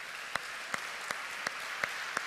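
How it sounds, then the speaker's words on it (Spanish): Faint, evenly spaced claps from a congregation at a Spanish-language church service, six sharp beats in a steady rhythm over a couple of seconds, heard at a distance. "Le damos un aplauso a la palabra de Dios."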